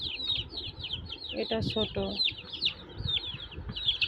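Small chicks peep in a constant high chatter while larger chickens cluck close by, and someone briefly speaks over the birds partway through.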